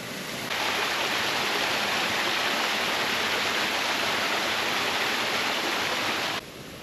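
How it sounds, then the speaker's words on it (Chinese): A small waterfall beside the Dahukeng hiking trail pours in a loud, constant roar that swells in after a moment and holds steady before dropping away near the end. "這也算是一座小瀑布。"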